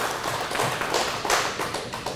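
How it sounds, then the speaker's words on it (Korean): A church congregation claps together, a dense, sustained patter of many hands close and loud throughout. "이럴 땐 박수 한번 쳐야지."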